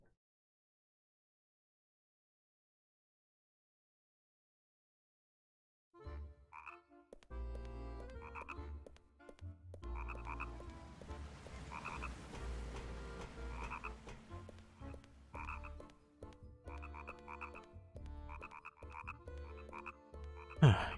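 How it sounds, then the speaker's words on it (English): Frogs croak in the video game The Nightmare Before Christmas: Oogie's Revenge. The croaks repeat steadily over a continuous game soundscape after about six seconds of silence, with no voices. "Hey, look, it's the frogs."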